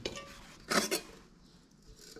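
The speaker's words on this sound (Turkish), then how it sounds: "Bu benim demliğim." Brief metal clattering and clinking, two quick knocks close by, as a metal pot is handled, then near quiet.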